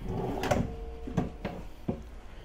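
A hotel room drawer slides open and shut a few times, giving short close wooden knocks and thumps in a quiet room.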